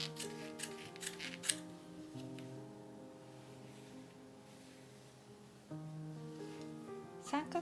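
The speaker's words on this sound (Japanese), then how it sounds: "ここ片側だけ切ります。" Scissors snip along the fabric edge of a hexagon patchwork shoulder bag, with a few quick, close cuts at the start and again at the end over soft sustained music.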